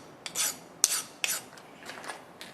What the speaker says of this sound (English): I'm going to hit it with a file just to deburr it